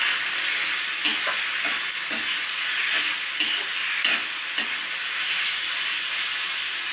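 Boiled chickpeas are stirred into a spiced tomato masala cooking in oil in a pan, producing a steady bright sizzling hiss with a few soft spoon taps and scrapes.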